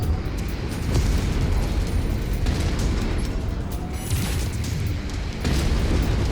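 An exploding mech in a MechWarrior 5: Mercenaries battle. Loud, continuous booming and rumbling rolls along with scattered sharp bursts of weapon fire, dense and close throughout with no talking.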